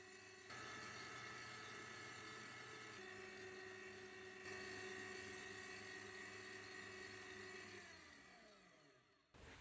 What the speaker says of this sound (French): soit 5 minutes au robot pâtissier ou 8 à 10 minutes au fouet électrique